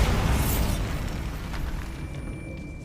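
A Bombarda blasting spell explodes in Hogwarts Legacy, a loud low boom that rumbles and slowly fades over a few seconds, with no talk.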